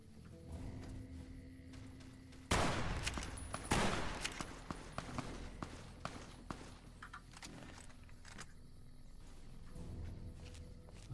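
Gunfire in the game Fallout: New Vegas, a burst of sharp shots around the middle, followed by scattered clattering impacts and footsteps over a steady ambient game background, moderately far and fairly quiet.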